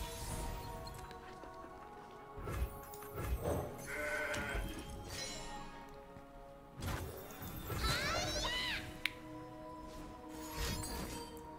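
The Mountain Goat card in the Legends of Runeterra card game bleats several times between game effect sounds, with crashes and whooshes around it, moderately loud, and no speech.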